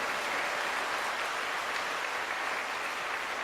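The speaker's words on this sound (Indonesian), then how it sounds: "tepuk tangan yang meriah buat kita semuanya" An audience at a Q&A talk applauds, a steady, dense wash of clapping from many hands throughout, with no voices.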